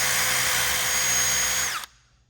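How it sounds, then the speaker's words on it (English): A wire brush spins on a power drill, grinding rust off metal in one steady, loud, high whirring burst that winds down and stops abruptly near the end. "Got the wire brush on the drill and just getting it on there."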